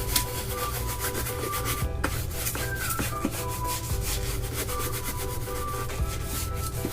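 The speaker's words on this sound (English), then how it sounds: "I'm going to take all this medium and I am going to just scrub this canvas with it." A landscape brush scrubs oil painting medium into a canvas in continuous, rough rubbing strokes, loud and close, with a few sharper scrapes and knocks.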